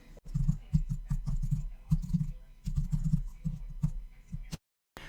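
A computer keyboard clatters in quick irregular bursts of keystrokes as code is typed, close and moderately loud, ending in a brief silence.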